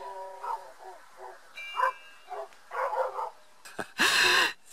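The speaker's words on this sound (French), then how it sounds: "on entend un aboiement." The white wolf Amaterasu in the game Okami gives a series of short, yippy barks and whimpers in quick succession, close and clear, ending with a louder, brighter burst.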